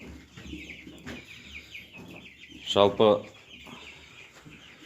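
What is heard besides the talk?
Cobb 500 broiler chickens clucking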